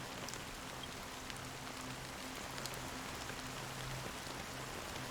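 Steady rain falls in the Honkai Star Rail video game, an even, dense patter of drops on surfaces with a faint low tonal hum underneath, continuous and without speech.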